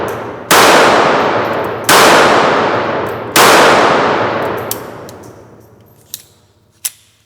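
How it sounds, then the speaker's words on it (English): Three loud, sharp metallic cracks from a pocket .380 pistol fire at steady intervals, each ringing off in a long fading tail, followed by a few faint clinks. "Long trigger pull."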